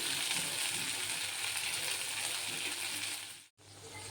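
Ginger-garlic paste with cumin, coriander, fennel and turmeric frying in a pan, a steady close sizzle that holds evenly throughout and cuts out abruptly for a split second near the end before resuming.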